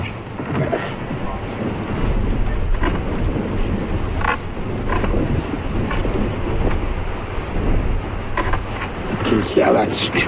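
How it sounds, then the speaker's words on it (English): A strong, cold wind roars across the microphone on a clear morning during a safari drive, a continuous rumbling buffet with gusts, loud and close throughout. "Hear that strong wind blowing. It's quite a cold wind"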